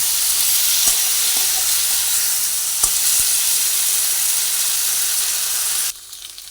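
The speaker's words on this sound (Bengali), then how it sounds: "আলুগুলো ঢেলে দিয়ে এবার ভালোভাবে আবার নাড়াচাড়া করে সবার সঙ্গে ভেজে নিচ্ছি" Potatoes sizzle in a pan as they are stirred and fried, a steady broad hiss with a few faint scrapes of the spatula, cutting off abruptly near the end; no voices.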